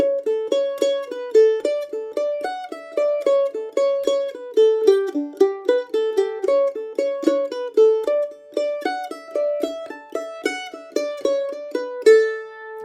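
A mandolin plays a lively, bouncing Scottish jig melody with a flat seventh, bright repeated notes played alone at a steady moderate volume.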